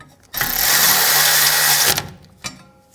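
A power tool whirs loudly for about a second and a half while bolts are tightened on the rear brake of a 2007-2013 BMW 328i. A short second burst follows after a brief pause, with no talk.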